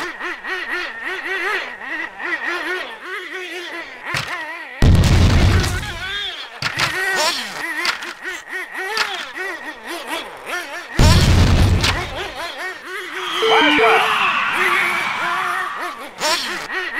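A missile blows up in the 3D Ultra Radio Control Racers video game. Two loud, broad booms land several seconds apart, one near the start and one near the middle, over steady game engine noise and quacking effects, with a voice talking throughout.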